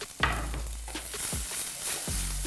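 Asparagus and garlic dropped into a hot pan at a home brunch cooking session, a sudden sizzle with stirring and scraping that continues steadily, close up.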